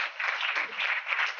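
Congregation at a Tamil praise and worship service clapping hands together in a brief, even burst of applause.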